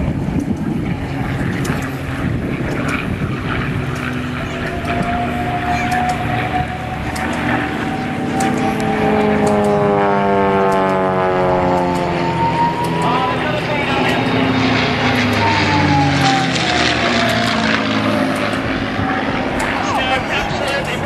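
A Messerschmitt Me 108 and P-51 Mustang propeller aircraft chase past at an airshow at Little Gransden, a loud sustained engine drone that rises and sweeps in pitch as they pass, with crowd chatter underneath.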